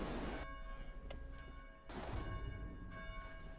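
Bells ring repeatedly in the video game Dead Island, loud metallic strikes with long humming tails, about three clear peals in a few seconds and each decay overlapping the next.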